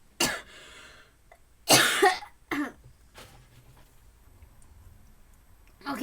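A person coughing several times in short, harsh bursts at close range, separated by pauses with faint ticking in the background.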